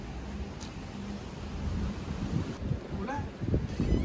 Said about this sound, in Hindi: हवा चल रही है, साथ में बारिश भी हो रही है